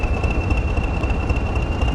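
A Class 142 train in a train simulator game gives a steady, loud, continuous engine rumble with a constant high whine on top, running unchanged throughout.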